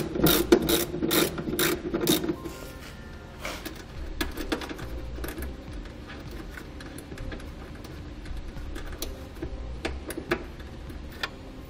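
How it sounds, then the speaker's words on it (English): A ratchet with a 5/16 socket backs out fasteners on a 2015 Volvo XC70 during a trailer hitch install, giving quick bursts of close, sharp clicking followed by slower, lighter ticks. "Now there's a fastener here and here we have to remove, and you can use a 5/16 socket for this."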